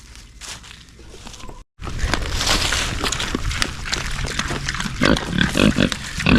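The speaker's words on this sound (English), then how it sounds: "these are Idaho pasture pigs" Idaho pasture pigs grunt and snuffle close by, with rustling and shuffling movement, a short gap of silence early on, then continuous louder grunting, on a snowy Tennessee homestead.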